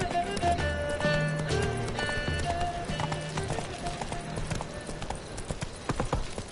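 Roach the horse galloping in The Witcher video game: steady rapid hoofbeats close by with a whinny, under game music and a faint voice.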